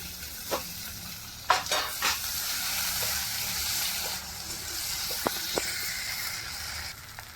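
Tomatoes dropped onto fried onions in a pan, a steady moderate sizzle with several sharp spatula knocks and scrapes spread throughout, no voices.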